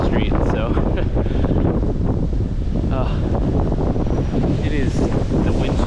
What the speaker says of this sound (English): the wind chill here is absolutely brutal